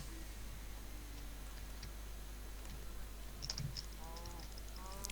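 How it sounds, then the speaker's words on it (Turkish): A computer keyboard is typed on during Minecraft play, its soft clicks faint and scattered over a low constant hum, with a few light game sounds near the end. "Klavye sesin geliyor lan."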